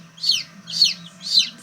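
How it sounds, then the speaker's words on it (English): Newly hatched chicks peep in a brooder, three evenly spaced high, bright chirps repeating about twice a second, close and clear over a low background hum. "Just getting set up for these chicks."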